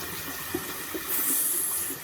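Hot water running from a household tap into a sink, a steady hiss and splash that swells louder about halfway through, with no talking over it.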